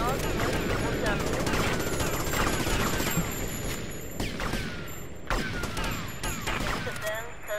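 Rapid gunfire in GTA Vice City, bursts of shots crackling densely over a busy game soundscape, with occasional louder reports, a voice talking over the action.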